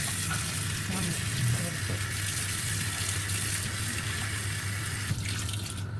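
Hot water runs steadily from a kitchen tap into a sink, a continuous broadband rush that holds level for the whole stretch, with faint background voices underneath.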